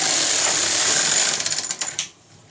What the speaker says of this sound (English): We need to move our carriage to the left again